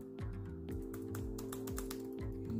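Quiet keystrokes on an Acer R11 Chromebook keyboard tap in an irregular series of soft clicks while game music plays steadily underneath.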